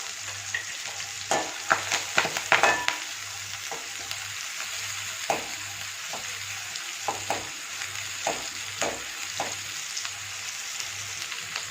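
Curry leaves and onions fry in oil for a cauliflower and potato gravy, with a continuous sizzle broken by repeated sharp crackles and pops, and a rhythmic low tapping underneath.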